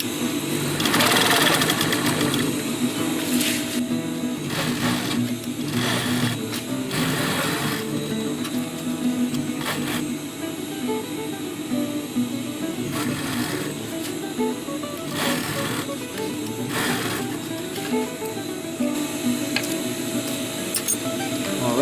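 A sewing machine stitches a tactical utility pouch from the bottom seam, its needle motor whirring steadily in close, continuous runs broken by short pauses and a few louder bursts.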